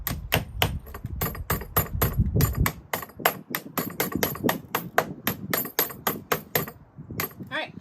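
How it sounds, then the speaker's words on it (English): A hammer taps a terminal onto a 12-volt RV battery in a fast, even series of sharp metal clinks, close and fairly loud, with a low rumble underneath early on. "It's sticking a little bit for me, so if that happens, you just take your hammer"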